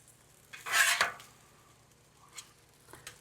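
A metal spatula scrapes and scoops fried rice off a Blackstone griddle in one loud, sizzling sweep, followed by a couple of faint clicks.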